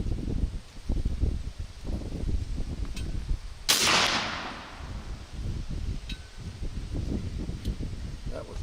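A single sharp crack from a .45 BushPig air rifle fired at a 60-yard target outdoors, standing out briefly over steady wind rustle and low background noise.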